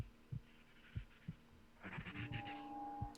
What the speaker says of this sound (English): I knew something was up with this damn heartbeat.